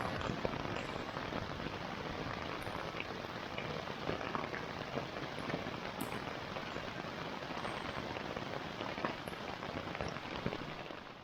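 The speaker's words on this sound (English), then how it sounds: "It has been raining for 15 hours straight now." Steady rain patters on a tent during a backpacking trip in the Upper Peninsula, a dense, even hiss of drops with occasional sharper taps and no voices.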